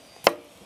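A knife cuts through young cucumbers in a salad preparation with one sharp, crisp chop, followed by a faint light tick, in an otherwise quiet moment.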